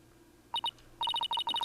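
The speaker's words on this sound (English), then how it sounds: "That's my ringtone." A video game phone ringtone in Phoenix Wright: Ace Attorney plays as a rapid series of bright electronic beeps, two short pips followed by a quick repeating run, clear and fairly close.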